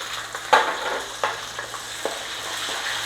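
Mustard seeds, urad dal, cumin, fenugreek, garlic, curry leaves and shallots fry in hot oil with a steady close sizzle, broken by a few sharp pops and stirring clicks.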